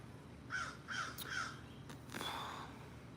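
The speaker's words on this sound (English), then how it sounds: "Y'all hear that bird?" Crow-like bird cawing outdoors by a backyard pool, three quick evenly spaced caws at moderate distance over steady background hiss, followed by a fainter call, with no talk.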